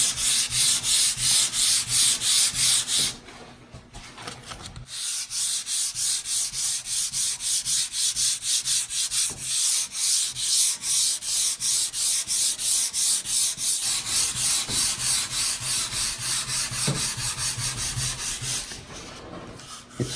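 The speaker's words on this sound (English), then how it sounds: "I'll just keep on going and finish sanding this whole end of the table this way" Steady, close-up scratchy rubbing of sandpaper on an oil-finished wooden table, repeated back-and-forth strokes with a brief pause near the start and near the end.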